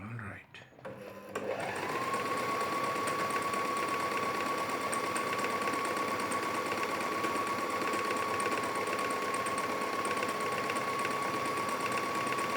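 A Singer Start 1306 sewing machine stitches cloth in a steady, continuous whir with a constant motor tone, loud and close, running alone after a brief handling noise at the start.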